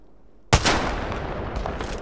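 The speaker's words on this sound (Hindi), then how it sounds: "ओ पीछे से शॉट आ रही है।" Gunfire in a shooter video game: a sharp shot hits suddenly after a quiet start, followed by a sustained rattling barrage with further bursts, loud and close.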